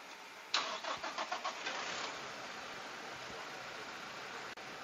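Toyota Vigo pickup engine cranks in a quick series of starter pulses and then catches into a steady, fairly quiet idle with a faint rev, heard alone without talk.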